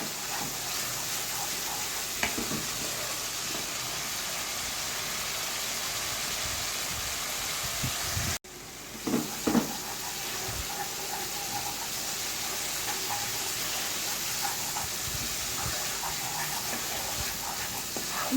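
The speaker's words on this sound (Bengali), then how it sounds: "টক দইটা দিয়ে ভালোভাবে একটু নেড়ে নিতে হবে।" Spice paste with sour yogurt frying in a pan while being stirred, a continuous soft sizzle and hiss with scattered scraping and stirring clicks, close and fairly quiet, with one brief interruption midway.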